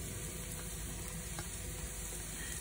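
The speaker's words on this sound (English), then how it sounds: "we put olive oil in the hot pan and we fry now one by one of these vegetable cubes" Mushroom cubes frying in olive oil in a hot pan, a continuous close hiss and crackle of sizzling with faint stirring scrapes, steady throughout and no voices.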